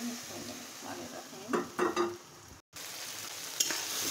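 Lentils tipped into a hot pan of frying spices for dal chochchori, with a few distinct stirring scrapes and a soft sizzle. A short gap follows, and then the steady frying hiss returns.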